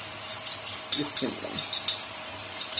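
Steady bright sizzling of crushed garlic frying in oil for a dal tadka, with a few scraping stirs of a utensil against the pan partway through.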